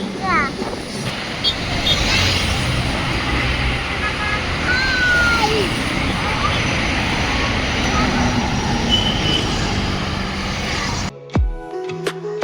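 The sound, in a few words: passing train on railway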